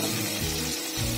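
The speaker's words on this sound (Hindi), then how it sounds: "प्याज को गोल्डन ब्राउन होने तक हम भुनेंगे" Onions fry in a pan for masala veg pulao, giving a steady, close sizzle with a low stirring rumble throughout.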